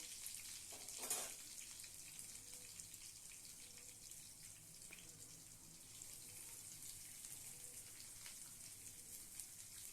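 Steady, quiet sizzling of onions frying in oil for prawn thokku, continuous and even throughout with no voices.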